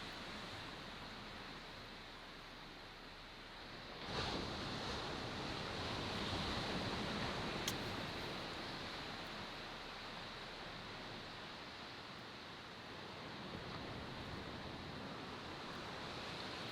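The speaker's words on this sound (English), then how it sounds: "the sound of the waves" Steady surf on an empty beach during rainy camping, a continuous broad wash of breaking waves with a slight swell around the middle, close and fairly loud, no voices.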